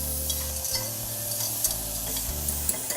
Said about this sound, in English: it's a really quick saute, so as you can see, my onions and peppers are nice and caramelized